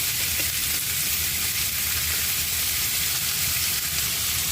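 Fatty pork neck fries in a pan with a loud, steady sizzle and crackle of hot oil that continues evenly from start to finish.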